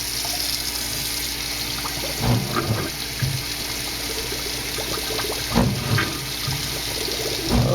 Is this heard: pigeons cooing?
no